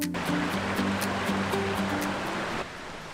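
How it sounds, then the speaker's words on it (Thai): Steady rushing water roars continuously, a dense broadband wash from a nearby waterfall at Chet Sao Noi in Saraburi, Thailand, with no voices. "พร้อมกับฟังเสียงของน้ำตก"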